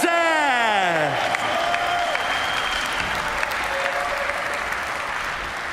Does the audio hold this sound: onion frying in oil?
no